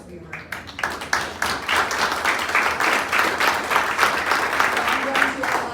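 Applause from a crowd at a city council meeting, dense steady clapping that swells after the first second and carries on evenly to the end.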